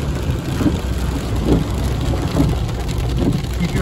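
Torrential rain pours down steadily in Big Bear Valley, California, a loud, dense and unbroken hiss of heavy drops battering surfaces, with faint low rumbles underneath and no talking.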